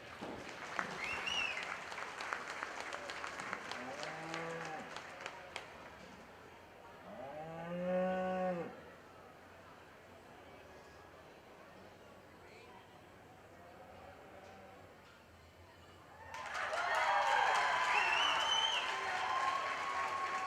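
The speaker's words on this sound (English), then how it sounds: "Give him another round of applause" A crowd at a livestock market steer show applauds the champion steer, a short burst of clapping at the end following a stretch of cattle bellowing and an announcer talking over a loudspeaker.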